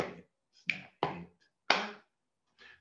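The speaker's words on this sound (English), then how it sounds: "Snap, hit, clap." A group performs a body-percussion groove of finger snaps, hits and claps, a few sharp separate strikes with short gaps between them, fairly quiet and with no voices.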